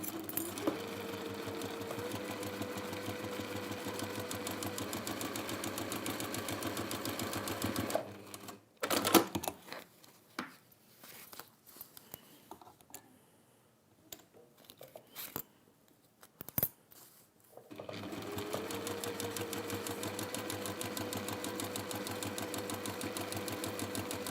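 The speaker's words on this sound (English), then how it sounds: "And then I'm going to sew up the sides, baste up the sides." A sewing machine bastes the sides of a fabric and PU/cork journal cover, running steadily and close for several seconds, pausing amid rustling and handling clicks, then whirring again steadily to the end.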